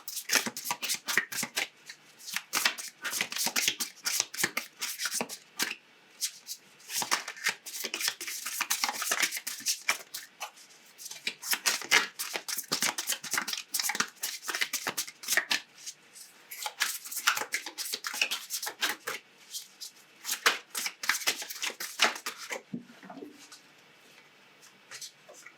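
A deck of tarot cards being shuffled by hand, with continuous close riffling and flicking in uneven bursts, quiet and steady, tapering off near the end.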